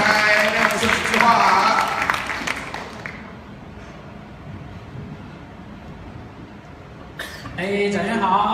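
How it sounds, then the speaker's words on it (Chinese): Audience applause at an album-release press conference: a loud burst of clapping mixed with crowd voices fades into quieter room noise, then swells again near the end. "我们就用热烈的掌声来欢迎"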